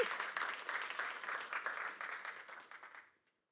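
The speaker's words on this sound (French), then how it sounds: "Alors vous avez applaudi Michel ou tout le monde là" An audience claps in a dense burst of applause that holds steady for about three seconds, then quickly fades to silence.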